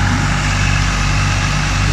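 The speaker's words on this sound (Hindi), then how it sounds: "और ये है थ्रेशर" A tractor-driven wheat thresher runs steadily in a farm field, a dense continuous mechanical roar with a low engine throb underneath and no voices.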